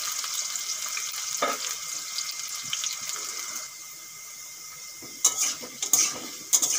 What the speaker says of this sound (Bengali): আলুটা একটু ভাজা ভাজা করে নেব।